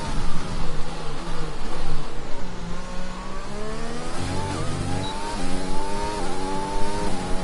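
A Formula 1 car engine in a racing video game, on a flying lap at Bahrain. The tone is loud and continuous, climbing steadily in pitch through each gear, dropping briefly at a shift, then rising again.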